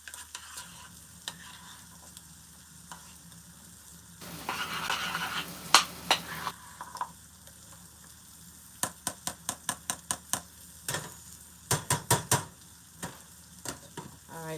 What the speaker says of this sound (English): Stir that butter in. Make it melt down real good.